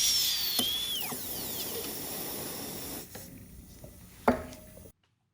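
A high-pitched round surgical drill whines and hisses in short runs during zygomatic implant surgery, with clicks and scraping contacts, fairly faint and close.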